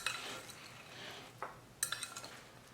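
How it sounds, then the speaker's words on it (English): Soft clinks and scrapes of a spoon mixing cucumber salad dressed with lemon juice and olive oil in a bowl, faint and close, with a few sharper taps near the end. "Mix it one more time."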